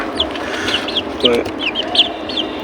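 Chickens cluck in short repeated calls, several birds close by on a rooftop, over a steady outdoor background hum.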